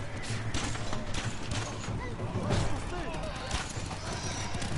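Horses whinny and neigh loudly in the video game Ghost of Tsushima, over a dense background of hoofbeats and commotion, with a voice shouting.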